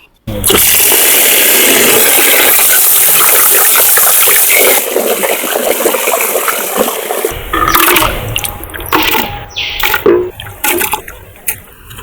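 Raw mutton for biryani is rinsed under running water, a loud steady gush and splash for several seconds that then breaks into softer sloshing and handling sounds.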